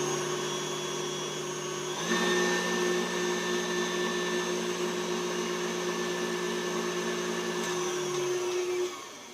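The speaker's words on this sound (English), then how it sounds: "And we're just going to give it a quick mix in." An electric mixer whips cream with vanilla for a banana cream pie, a loud steady motor whine holding for several seconds, rising slightly in pitch after a short spin-up and cutting off at the end.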